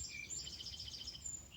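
Brahma chicken chicks let out of their cage give a steady stream of faint, high peeping chirps, overlapping and continuous, with a low rumble beneath.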